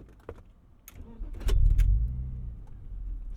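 A 1999 Dinan BMW M Roadster with a low battery cranks slowly after a few clicks and rattles, then catches into a deep, close idle rumble that carries on steadily.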